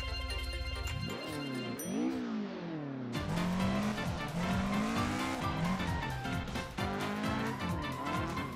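A Toyota AE86 slides through a drift track in a racing video game, its engine climbing and dropping in pitch while tires squeal loudly and continuously, with no voices.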